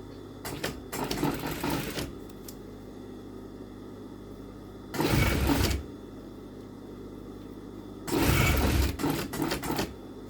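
Sewing machine fitted with a single-sided zipper foot, stitching along a shirt hem with elastic, runs in three bursts: a short one near the start and two longer ones later, with quiet pauses between and no talk.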